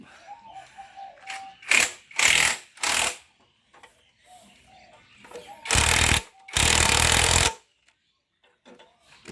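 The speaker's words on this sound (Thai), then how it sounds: "คลายน็อตนะครับ แล้วก็ตอกไอ้นี่เดินหน้าไปนะครับ" Nuts on a Thai motorcycle frame loosened with a power tool and a part hammered forward: several loud, short mechanical bursts, some close together, with two longer rattling runs, near and alone between quiet gaps.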